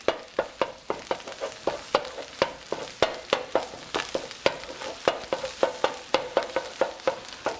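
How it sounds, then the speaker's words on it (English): A spatula taps and scrapes steadily against a frying pan while egg is scrambled in the center for fried rice, a quick regular rhythm of close metallic knocks over a faint sizzle. "It's almost like we're doing a little bit of scrambled egg right here in the center of our pan."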